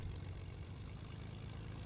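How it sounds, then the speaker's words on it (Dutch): Propeller airplane engine in the Fortnite Battle Royale video game, a steady low droning hum held at even loudness throughout, with no talk over it. "Maar ik heb een vliegtuig gepakken."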